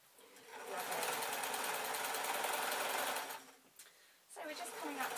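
Sewing machine stitching french seams on a scarf, a fast steady whirring hum running for about three seconds, a brief pause, then resuming; close and fairly loud.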